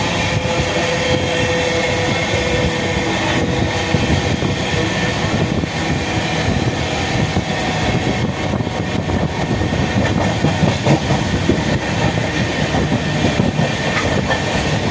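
A train rumbles steadily along the tracks into Tambaram railway station in Chennai, with a continuous loud roar and faint rhythmic clatter, slowing toward a stop.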